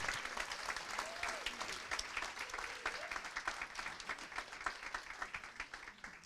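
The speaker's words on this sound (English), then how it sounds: "please give a big round of applause to Malika" At an annual meeting, the room applauds Malika as she comes up to speak, a fairly distant crowd clapping with a crisp patter of individual hands, steady for several seconds.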